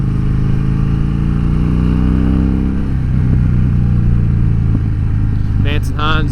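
A 2014 Harley-Davidson Dyna Fat Bob with a 103 twin cam engine and Vance and Hines exhaust, a deep close rumbling idle and low revving throughout, with a rising whine at the end.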